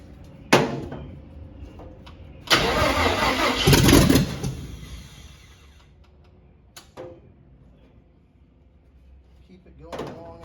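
A cab over van engine cranks in a short burst and then a longer grinding run of a few seconds without catching, with clicks and a door-like knock around it and people talking nearby.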